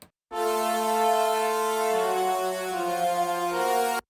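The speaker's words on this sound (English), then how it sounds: "And then we have this horns ensemble," A sustained brass chord from a horn section swells in and holds steadily, rich and full, shifting harmony briefly before fading out.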